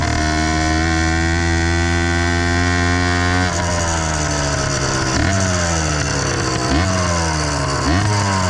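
A 100cc YD100 motorized bike engine runs close by, buzzing steadily at first. It then revs up and down in several sharp bursts, each rising whine dropping back before the next.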